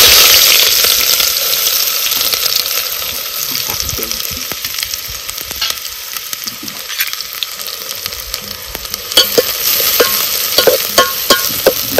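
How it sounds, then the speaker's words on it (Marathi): Onions frying in hot oil in a pot over a wood-fired stove, a loud continuous sizzle with scraping stirs and clinks, the crackle brightening toward the end. "बघा आता आपला कांदा चांगला भाजलाय मस्त असा"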